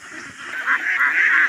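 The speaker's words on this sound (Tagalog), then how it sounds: "marami na yung mga itik natin" Ducks on a farm honk and quack in a short nasal burst that grows louder toward the end, heard close by with no talking.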